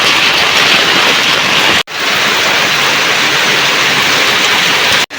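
Heavy rain pours down during a flood-day downpour in Siliguri, a loud, dense, unbroken hiss that fills the space, cut by two very brief dropouts.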